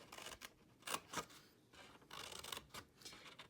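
Scissors snip along the lines of a paper treat-box template, a series of quiet, separate crisp cuts with short pauses between them.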